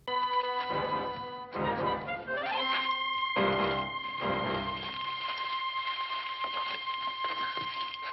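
A timer ticks in a steady, rapid rhythm, with electronic tones and other sounds layered over it at moderate loudness.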